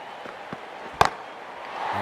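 One sharp crack of a cricket bat striking the ball during a Hundred match between Southern Brave and Manchester Originals, a single clean hit over faint stadium crowd murmur.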